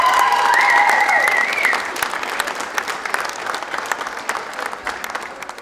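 Banquet audience at a 2022 Atlantic Major U18 female hockey championship breaks into loud cheering and sustained applause, with whistles and shouts at first, then settling into steady clapping that gradually thins.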